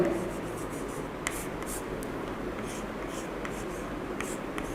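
Marker or chalk writing on a board during a number-system lecture, a steady faint scratching under a constant room hiss with occasional small taps.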